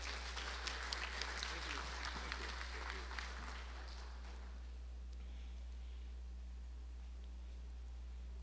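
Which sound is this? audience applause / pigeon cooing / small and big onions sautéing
audience applause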